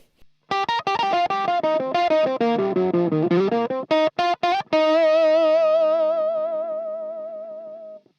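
Electric guitar through an Octavia octave pedal in the neck position, with a thick, buzzy octave-up tone, played in choppy phrases and ending on a long sustained note that slowly fades out.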